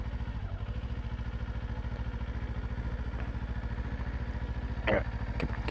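A Kawasaki Ninja 500 motorcycle putters at low speed in a steady, close idling rhythm, with a few brief clattering knocks near the end.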